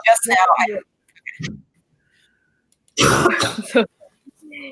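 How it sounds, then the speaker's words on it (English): A single harsh cough close to the microphone, followed by a brief throat sound and quiet pauses. "I coughed."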